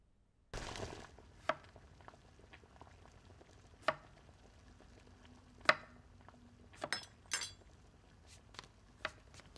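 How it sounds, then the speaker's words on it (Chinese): A kitchen knife chopping vegetables on a cutting board, with sharp isolated knocks spaced irregularly over several seconds, one louder burst near the start, over a quiet room. "切菜的姿势错了"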